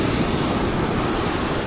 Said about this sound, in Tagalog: Oh, abot na yung dagat dito.